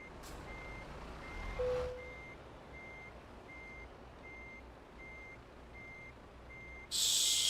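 Steady, evenly spaced reversing beeps sound from a truck backing up a trailer in a video game, repeating about every half second over a low engine rumble, with a brief air-brake hiss near the start and a louder burst at the end.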